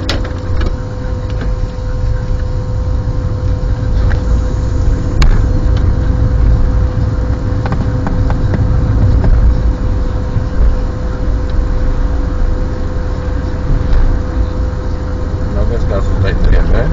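Car engine revved hard during a driving lesson, a steady loud drone with the car jerking under throttle, continuous throughout with an instructor talking over it.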